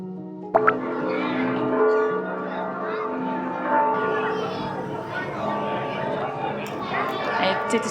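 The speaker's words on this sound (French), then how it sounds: "C'était trop belle la cloche." A church bell in a quiet village an hour from Barcelona rings out with a sharp first strike, then keeps sounding in sustained, overlapping tones while a person talks over it.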